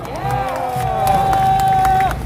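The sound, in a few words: crowd applauding and cheering at a rally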